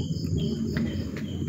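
A wasp buzzes continuously and close by inside the bathroom of a factory dormitory in Bogor, a steady insect drone with no talk over it.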